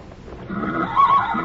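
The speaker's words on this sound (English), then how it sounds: "Where did you buy this horse, Joaquin?" A pony neighs outdoors at night, a close, moderately loud whinny that swells toward the end of the short moment with no talk over it.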